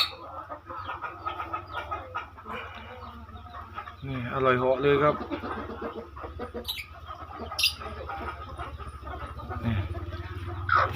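Hens cluck while feeding on mealworms, and a rooster-like call rises in the middle, with a person talking throughout and a sharp bird squawk near the end.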